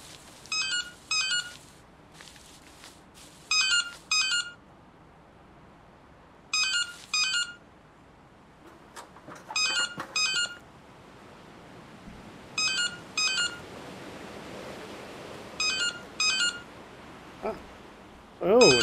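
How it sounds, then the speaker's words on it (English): A Nokia mobile phone ringtone plays inside the horror video game Anthology of Fear. The same short electronic melody repeats eight or nine times in regular bursts over a quiet, dark ambience. "Nokia phone."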